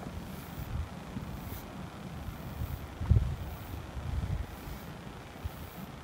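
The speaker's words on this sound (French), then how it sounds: "Je sais pas si vous m'entendez parce qu'il y a beaucoup de vent" Gusty wind rumbles against the microphone in low, uneven surges at a horse-riding stable, with a few louder buffets, and no clear voices.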